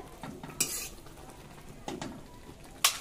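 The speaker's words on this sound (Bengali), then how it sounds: "আমি এরকম করে নাড়াচাড়া করে নেব।" Mihidana sweet mixture being stirred in a pan, with a few sharp scrapes and clinks of a utensil against the metal, spaced apart over soft quiet background.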